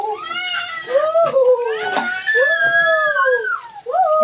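A young child cries close by at home in long, wavering, rising-and-falling wails, with brief breaths between the bursts.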